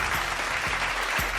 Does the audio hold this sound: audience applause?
yes